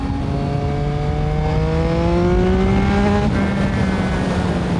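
A Yamaha MT-09 motorcycle runs at full throttle in third gear, its engine note climbing loudly and smoothly, then dipping briefly before pulling on again near the end.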